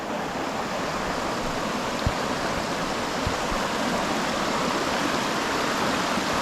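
Clean river stream flowing steadily, a continuous broadband rush of water close by with no talking.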